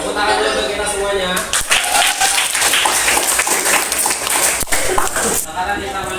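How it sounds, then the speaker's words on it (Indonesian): Classroom applause from a group of junior high school students, steady dense clapping filling the room for several seconds with some voices mixed in. "Tepuk tangan dulu buat kita semuanya."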